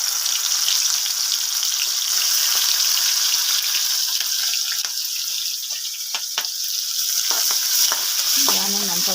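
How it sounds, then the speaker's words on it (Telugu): Thinly sliced onion sizzles loudly and steadily in a spoonful of hot oil, a bright continuous hiss close by with a few soft stirring knocks and a brief clink near the end. "ఆనియన్ వేసేసి"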